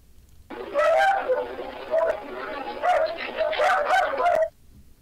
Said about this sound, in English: these big sections right here are the dogs barking